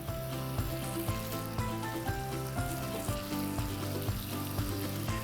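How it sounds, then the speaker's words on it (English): Peach halves laid face down in an oiled grill pan sizzle steadily and close by, a constant frying crackle with faint regular soft knocks. "Now we're gonna take our peaches one at a time and put them face side down in the grill pan."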